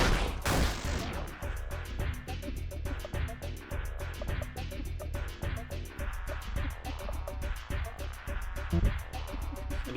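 Gunfire in the video game LISA: The Painful, rapid repeated shots layered over a dense, loud game soundtrack that carries on throughout.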